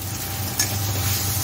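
Soft leafy greens (shaak) sizzling in a pan as they are stirred, giving a steady close hiss with one brief scraping stir partway through.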